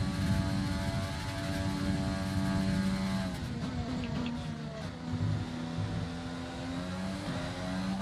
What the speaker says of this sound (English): You can hear the car rev up.